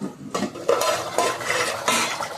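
A metal lid set onto a simmering pot of curry with eggs, brinjal and sweet potato, giving a few clattering, scraping knocks close by with no voices.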